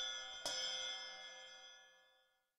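A single bell strike in the horror video game Showdown Bandit, a sharp metallic hit followed by a long, bright ringing tone that slowly decays to silence.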